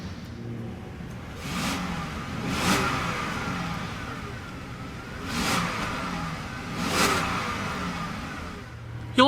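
2013 Rolls-Royce Phantom Series II engine and exhaust, heard as a smooth, subdued idle with four soft rising revs spaced a few seconds apart, fairly quiet and without talk.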